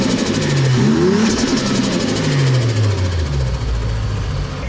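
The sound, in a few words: Toyota JZX110 engine running through new FuelTech intake pipe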